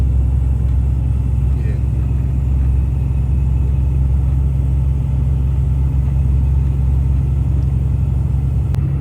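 A car cruises along a European highway on a long-distance trip, its engine and tyre rumble loud, steady and unbroken from the interior throughout.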